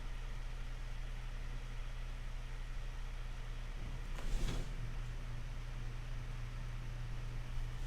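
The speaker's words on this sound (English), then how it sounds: "so sorry for the fan sound" Electric fan running in a room, a steady low hum with a broad airy hiss that drones on continuously and evenly, with a brief rustling bump partway through and no one talking.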